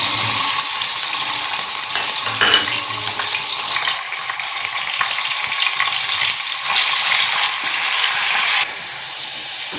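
About 200 grams of chicken fries in hot ghee, giving a continuous loud sizzle and hiss with occasional stirring scrapes and clinks, and no voices.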